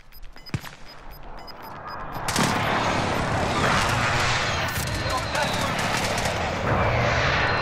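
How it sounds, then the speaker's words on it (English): A precision airstrike in the video game Warzone lands as a loud, sustained roar of explosions and gunfire that builds after a sharp early shot and fills the rest, with voices talking over it. "Friendly precision airstrike inbound."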